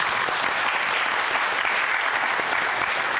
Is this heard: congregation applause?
yes